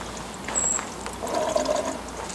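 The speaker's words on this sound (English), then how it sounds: "throw a little water here in the radiator" Water is poured into the radiator of a Honda CR500 motorcycle, a short close splashing gurgle that swells twice in brief pulses, with no talking.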